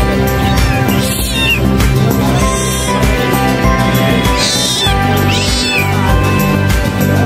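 Loud, repeated cat meows rise and fall over steady background noise, several cries in a row, close by, at a pet and bird market in Mirpur, Dhaka.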